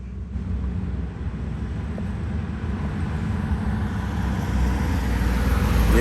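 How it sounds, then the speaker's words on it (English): Classic cars passing on a road, heard as a steady, low engine and road rumble that swells slightly louder toward the end, with no individual vehicle standing out and no talking. "I think I see a couple more classics coming up."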